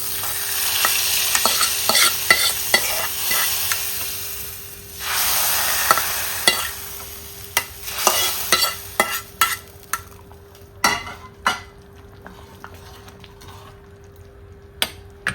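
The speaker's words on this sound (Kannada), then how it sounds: "ಇವಾಗ ಈ ಒಗ್ಗರಣೆಯನ್ನು ಇದಕ್ಕೆ ಹಾಕೊಳ್ಬೇಕು." A hot tempering is poured into a simmering Maharashtra-style Akka Masoor whole lentil curry, setting off a loud, close sizzle in bursts. Then a spoon stirs and scrapes the pot in sharp, intermittent knocks as the hiss fades.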